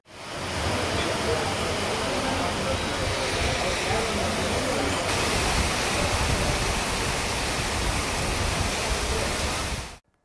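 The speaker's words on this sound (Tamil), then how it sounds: "கள்ளக்குறிச்சியில் மழை வெளுத்து வாங்கியது." Heavy rain pours down steadily in Kallakurichi, a dense, unbroken roar of falling water with no pauses and no voices.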